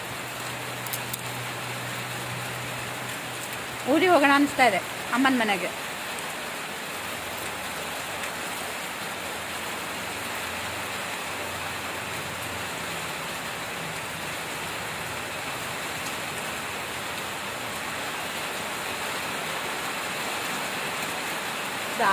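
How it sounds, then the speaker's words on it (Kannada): Heavy rain falling steadily at a village home, a constant soft hiss throughout, with a brief spoken phrase early on and a faint low hum at the start. "ಜಾಸ್ತಿನೇ ಆಗ್ತಾ ಇದೆ ಮಳೆ"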